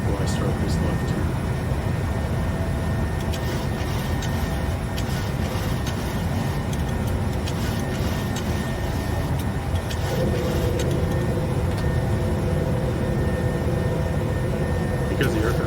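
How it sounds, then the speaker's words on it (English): A PMDG 737 airliner lifting off in Microsoft Flight Simulator, departing Tokyo Haneda: a steady, loud jet engine roar holds throughout, with a slight shift in tone partway as the gear and flaps come up. "Start to lift off. Get the gear and the flaps up."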